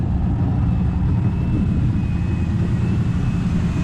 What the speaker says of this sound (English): Listen to her purr. Oh, she sounds so good.